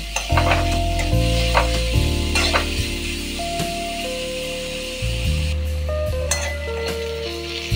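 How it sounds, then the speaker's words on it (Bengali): Chopped onion and tomato with a little salt being stirred together in a pan for a prawn and potato curry, utensil scrapes and clinks over a steady close sizzle, with no talk. "এবার একসাথে সবগুলো মিশিয়ে নেব।"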